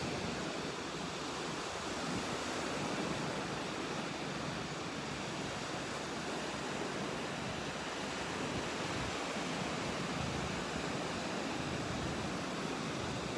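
High-tide surf washes onto Boracay beach in a constant broad roar, waves breaking and hissing steadily with wind blowing across the microphone.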